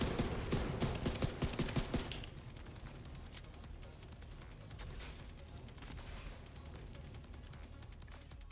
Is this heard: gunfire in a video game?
yes